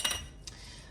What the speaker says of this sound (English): I'm gonna put the lid back on